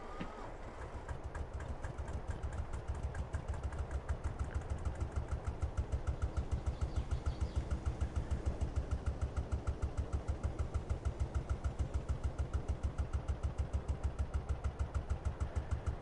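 A small tractor with a side seat idles in a farming video game on PS4, its engine a steady, rhythmic low chugging that holds evenly and fairly loud for the whole stretch, with no speech.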